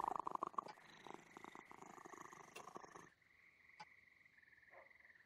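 A soft, steady cat purr from a character in Penny Arcade RPG, layered with bright synthesized tones and chimes, with no talking.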